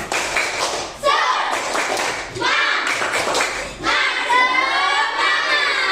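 Schoolchildren in a classroom perform a rhythmic spirit clap, bursts of patterned clapping mixed with chanting voices and shouts, repeated in several rounds close by.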